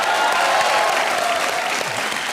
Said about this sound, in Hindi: हमारे KRK साहब के लिए जोरदार तालियां हो जाएं।